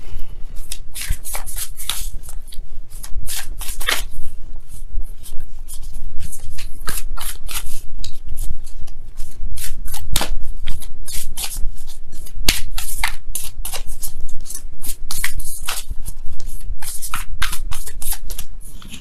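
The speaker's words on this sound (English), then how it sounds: "let me go ahead and really shuffle." A deck of tarot cards is shuffled steadily and vigorously for the whole stretch, a dense run of close, loud riffling flutters without any speech.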